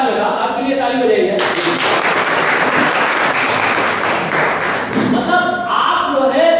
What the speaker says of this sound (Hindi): आपके लिए ताली बजाइए